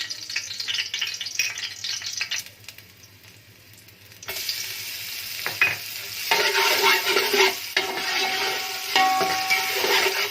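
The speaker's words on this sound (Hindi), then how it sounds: "ऑयल हमारा गर्म हो चुका है। अब इसके साथ अदरक लहसुन डालेंगे।" Ginger and garlic sizzle and crackle in hot oil, with stirring scrapes; the frying grows louder and busier partway through.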